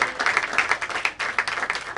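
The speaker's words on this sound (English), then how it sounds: "Give yourselves a round of applause." A stand-up comedy crowd in Orange County claps in a brief, dense burst of applause, close and lively, with no talking over it.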